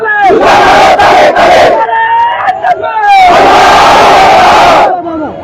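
A large crowd of students at a protest shouts a slogan in unison. Loud, rhythmic bursts of massed voices come in two long waves with a short gap of scattered shouts between them.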